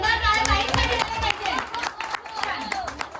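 Clapping for the winner of a game at a Shivjayanti procession, the applause loud and close with children's voices and other talk mixed through it.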